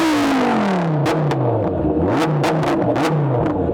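A Lamborghini Huracan Tecnica with an upgraded, louder exhaust revs hard, loud and close, its engine note sweeping down then blipping up and down in repeated surges, with sharp crackles and pops from the exhaust.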